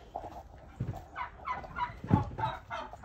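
Domestic Christmas turkeys gobble repeatedly at close range, a run of rapid warbling calls overlapping one another across the whole stretch with a louder burst near the middle.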